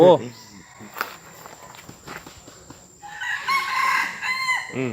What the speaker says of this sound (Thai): ไก่ป่าเต็มวัดเลยครับไก่บ้านก็มี